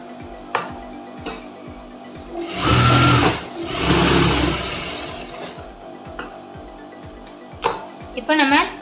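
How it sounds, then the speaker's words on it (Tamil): A sewing machine runs a seam along blouse lining in a couple of seconds of whirring, close up, while someone talks before and after it and soft ticking clicks continue throughout. "அப்படியே ஒரு கால் இன்ச் இடைவெளியில் நம்ம தையல் வந்து போட்டுக்கலாம்."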